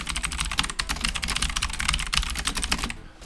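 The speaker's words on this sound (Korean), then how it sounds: "이렇게 답글도 바로 달아드려야죠. 제가 타자가 굉장히 빠릅니다." Rapid, continuous typing on a computer keyboard, with dense, fast keystrokes clattering close up for about three seconds with no speech.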